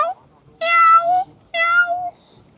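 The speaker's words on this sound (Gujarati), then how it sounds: "ચાલી નહીં દઈ શકતા બિલાડી મીંદડી" A cat at a city farm in London lets out two clear, drawn-out meows close by, each about half a second long with a short pause between them.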